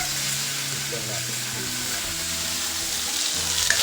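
Spice masala hits hot oil in a pan for a loud, dense sizzle that holds steady from start to finish, close up and uninterrupted by speech.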